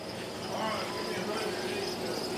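Crickets in bait boxes, roughly ten thousand to a box, keep up a dense, continuous high chirring from the stored insects, steady and moderately quiet throughout.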